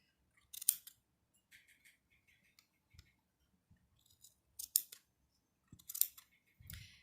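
Scissors snip through Lion Brand yarn wound for a pom pom, several crisp separate cuts in quiet, close up and fairly faint, spread across the moment with short pauses between.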